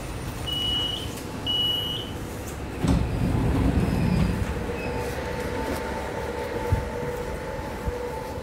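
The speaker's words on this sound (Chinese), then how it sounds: "列车即将到达终点站静安桥，感谢您乘坐北京地铁六号线。" A Beijing Subway Line 6 train pulls into its terminal station with a steady rumble and rattle of the cars, after two short electronic chime tones at the start; the noise swells briefly in the middle and then settles.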